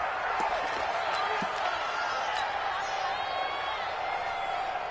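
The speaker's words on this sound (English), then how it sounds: "The crowd here in the Dome making things difficult." A stadium crowd inside a domed football arena roars steadily throughout, dense and continuous with faint whistles and shouts on top, while a commentator's voice runs underneath.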